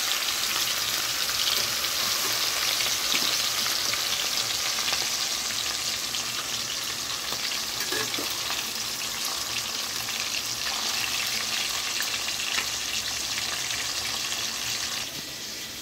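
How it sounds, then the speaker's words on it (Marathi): Surmai fish pieces frying in hot oil for a fish curry, giving a loud, steady, close sizzle that crackles without a break for the whole stretch and eases slightly at the very end. "मी तेल पण ठेवलं, एकदम व्यवस्थित गरम झालेलं आहे। त्याला आराम से सोडून मस्त 3-4 पीस टाकायचे"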